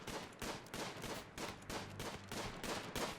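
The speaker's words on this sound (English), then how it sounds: "Can you fire at that iguana, please?" Gunfire at an iguana in the colony game Rimworld comes as a quiet, steady series of rhythmic bursting shots, about three per second, with no talk over it.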